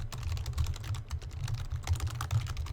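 Repeated clicking of a computer mouse during an attention task: a run of quick, close taps in a steady pattern, heard alone with no voices.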